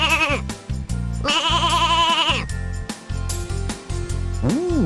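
A sheep bleats repeatedly in a children's sound-guessing game, with loud wavering cries broken into several separate calls close to the listener.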